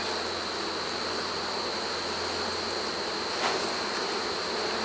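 Honey bees hum steadily around backyard beehives, a continuous close buzzing drone with no pauses or voices.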